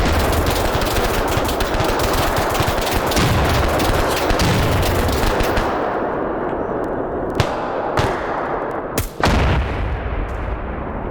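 In an online military shooter game, a mounted turret machine gun fires in long sustained bursts, loud and dense, then thins to a few heavy isolated shots and booms near the end.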